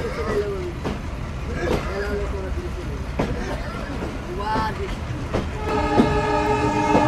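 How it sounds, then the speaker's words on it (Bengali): Betna Express train led by a powerful 65 series locomotive running at speed between Khulna and Benapole, with steady loud rumble and clatter throughout and a sustained horn blast near the end; a voice talks over it. "আমাদের ট্রেনের নেতৃত্বে থাকা 65 সিরিজের লোকোমোটিভ এমনিতেই বেশ পাওয়ারফুল, আর অল্প সময়ের ভিতরেই দুর্দান্ত গতি নিয়ে নিচ্ছে।"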